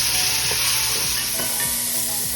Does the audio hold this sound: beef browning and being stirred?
yes